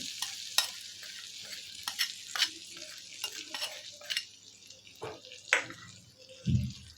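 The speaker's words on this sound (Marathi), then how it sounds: "आता हा तडका आहे तो आपण या कैरीवर टाकायचा आहे" Hot tadka of oil with chilli powder and asafoetida poured over raw mango, giving bursts of sizzling and stirring clatter with faint background hiss and a low thump near the end.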